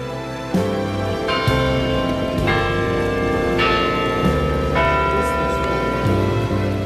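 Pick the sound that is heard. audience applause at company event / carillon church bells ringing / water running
carillon church bells ringing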